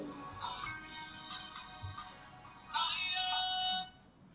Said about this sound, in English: your phone is ringing.